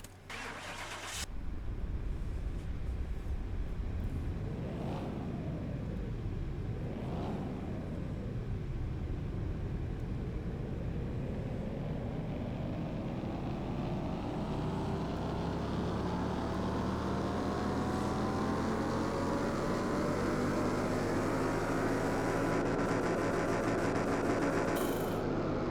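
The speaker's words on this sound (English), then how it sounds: "Let's run the dyno test here" A car engine, rated at 270 horsepower and 370 lb-ft of torque, revs up steadily and loudly on a dynamometer, climbing from a low rumble to a sustained high-pitched scream over about twenty seconds after two quick throttle blips.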